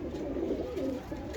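Breeder pigeons coo in soft, continuous low murmurs close by, a brief steady stretch without any talking.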